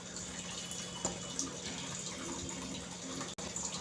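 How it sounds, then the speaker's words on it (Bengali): Chhana, fresh cottage cheese, is rinsed with clean water in a kitchen, a steady faint stream of running water with a few small splashes and one brief dropout near the end. "3 থেকে 4 বার কিন্তু ছানাটাকে খুব ভালো করে পরিষ্কার জল দিয়ে ধুয়ে নিতে হবে"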